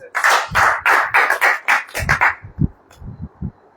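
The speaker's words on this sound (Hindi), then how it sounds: "ताली बजाइए" An audience bursts into clapping at a religious gathering, loud bursts of applause that quickly fade out while someone talks over the end.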